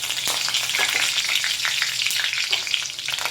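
Cumin, mustard seeds, fenugreek and curry leaves fry in hot oil, crackling and popping busily over a dense, continuous sizzle, close and fairly loud, with no voices.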